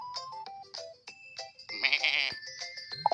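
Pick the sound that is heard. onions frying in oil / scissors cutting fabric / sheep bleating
sheep bleating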